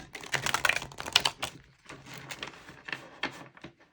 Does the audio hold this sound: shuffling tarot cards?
yes